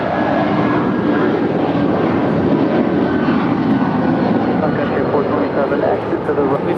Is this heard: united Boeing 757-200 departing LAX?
yes